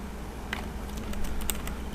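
Rapid clicking keystrokes on a computer keyboard, close and steady, a quick run of taps over a low background hum.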